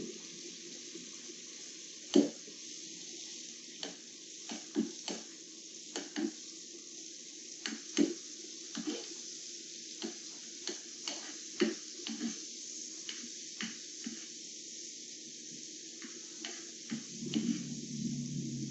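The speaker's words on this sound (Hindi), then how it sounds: "हम इसमें ग्रीन चिलीज को जरा सा फ्राई कर लेंगे ताकि इसका फ्लेवर आ जाए इसमें।" Green chilies frying in butter in a pan, a thin continuous sizzle punctuated by frequent soft pops and ticks, fairly quiet throughout.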